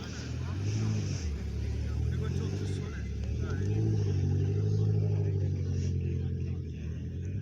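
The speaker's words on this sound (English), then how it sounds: "Great sounding car as well." A blue BMW M6 at a classic car meet at the Dovecote Inn, Laxton gives a steady, fairly close engine rumble that swells and eases, with people talking over it throughout.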